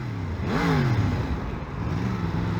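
Close, loud rev of a Yamaha MT-10 motorcycle engine: the pitch climbs sharply, holds, then falls away, followed by a second smaller rev over constant wind and road rumble.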